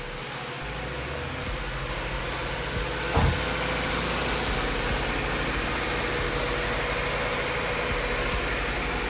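A 1993 Honda Civic Si B16 engine, after timing belt repair, idles steadily with a low, even rumble and faint vibration, briefly thumping once partway through, no voices.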